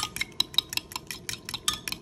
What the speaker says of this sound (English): all goes in and you just stir, stir, stir